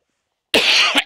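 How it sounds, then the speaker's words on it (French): One sharp, close cough with a brief second burst at the end, alone in silence. "excusez-moi de tousser dans vos oreilles"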